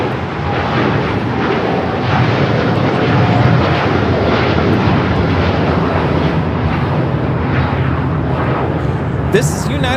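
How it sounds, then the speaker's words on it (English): A United Airlines 787-9 Dreamliner takes off from LAX, its engines a loud, sustained roar that swells slightly through the middle, with a voice talking over it and a brief sharp sound near the end. "This is United Airlines 152 taking off to Hong Kong on the 787-9 Dreamliner."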